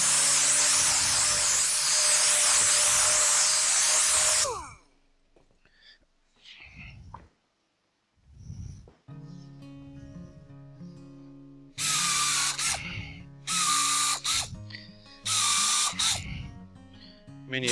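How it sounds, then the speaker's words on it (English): A power sander whines loudly on wood for a few seconds, stops, then runs again in several short bursts separated by quiet pauses and light handling noises. "we'll knock those off with a sander"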